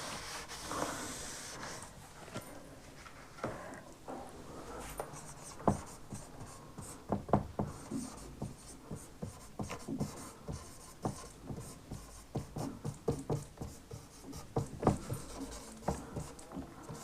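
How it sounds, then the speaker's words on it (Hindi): A marker or chalk scratches and taps steadily across a board during a math lesson, with irregular strokes and ticks repeating for a long stretch, fairly quiet and alone. "यहाँ लिख देती हूँ"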